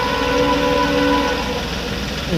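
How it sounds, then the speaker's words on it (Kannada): A train rumbles past a railway crossing loudly and continuously, with a sustained tonal whine or horn-like drone over heavy rolling noise. "ಈ ಸಲ ಪೂರ ಟ್ರೈನೇ ಬರತ್ತೆ"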